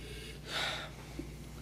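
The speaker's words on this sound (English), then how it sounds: "Let's give it a sniffy sniff." A single quick, breathy nasal sniff of red wine swirled in a glass, close to the mic, rising and fading within about half a second against a quiet room hum.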